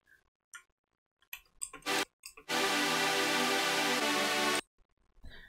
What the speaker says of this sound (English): JP6 K patch sounds like this